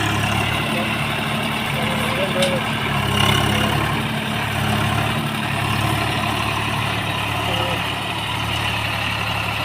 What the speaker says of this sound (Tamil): பாருங்கள் வண்டி ஓடிட்டுருக்கு எடுத்துகிட்டு போகிறேன்